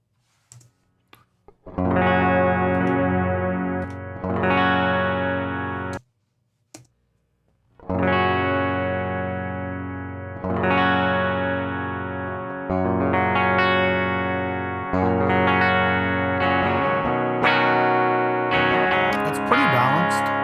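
Electric guitar fitted with new pickups, played with a clean tone: strummed chords ring out with sustained decays, a short pause partway, then more chord strums and picking, with faint clicks at the start.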